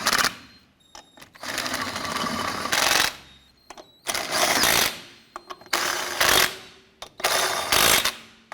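Power tool, likely an impact or electric driver, snugging down wheel lug nuts on a 1993-1997 Ford Ranger: five loud rattling bursts of one to two seconds each, close up, separated by short pauses and small clicks.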